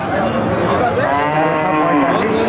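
A cow moos at a busy rural cattle market in Chougachha, Bangladesh, a long, loud, wavering low call close by over steady crowd noise.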